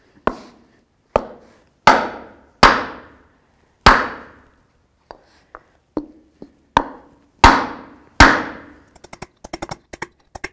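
A part on a 2017 Ford F-350 dually rear brake job being driven in with hammer blows through a soft wood block: loud, spaced, ringing knocks, then a rapid burst of lighter taps at the end.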